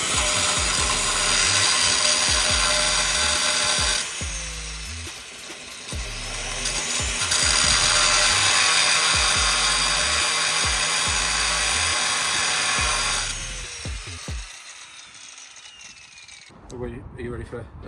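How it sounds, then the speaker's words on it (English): An angle grinder cuts through a rounded bolt on a Mazda MX5, a loud, close, sustained high whine that dips and resumes in long bursts before stopping near the end. "I think it's time to get the grinder out and get this off"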